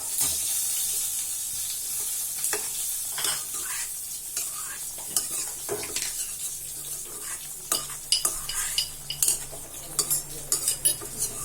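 Sugar being stirred into phirni payasam in a pan, a steady scraping and clinking of a spoon against the metal with a soft sizzle underneath, continuous and close with sharper knocks toward the end.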